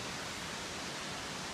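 Waterfall at Plitvice Lakes in Croatia, a dense, even roar of falling water filling the short moment with constant broadband rush.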